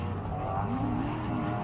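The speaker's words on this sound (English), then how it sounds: "hearing the power of that engine laying it down" A race car engine at the Legacy Racing 2022 State Line Shootout roars close by, its pitch sweeping upward and bending as the driver works the throttle under power.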